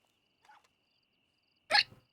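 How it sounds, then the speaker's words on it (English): Two brief hiccups from a woman, a soft one followed after a pause by a sharper, louder one, close and isolated against near silence. "I've got the hiccups."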